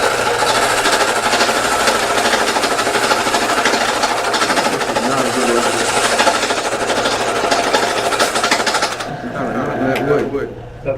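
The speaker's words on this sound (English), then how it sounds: "you can come in with the skew chisel" Skew chisel cutting a wooden spindle on a lathe, a loud, continuous rough rattling cut with the spinning motor's hum underneath, easing off near the end.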